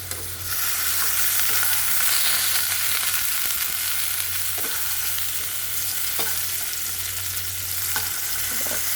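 Food shallow-frying in a pan, a loud and steady close sizzle that runs unbroken, with a few faint clicks of a utensil now and then.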